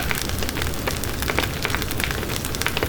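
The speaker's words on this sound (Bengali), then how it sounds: "এবার ভালো করে ভেজে নেব।" Pitha fries in oil in a small pan, making a steady, dense crackling sizzle close up with no talking.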